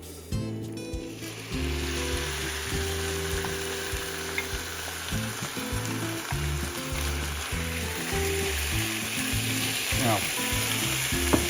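Diced venison stew meat browns in a hot pan for homemade chili, a loud, steady sizzle and fry running throughout with occasional stirring scrapes; a single brief word is spoken near the start.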